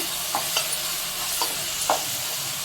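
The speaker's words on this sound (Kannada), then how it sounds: "ಹಾಗೆಯೇ ಶುಂಠಿ ಕೂಡ ಹಾಕೋಣ ಒಂದು ಸಾರಿ ಫ್ರೈ ಮಾಡೋಣ ಅದನ್ನು" Ginger frying in oil in a pan while kharabath is cooked, giving a steady low sizzle with a few soft scraping stirs of a spoon, close and alone with no talk.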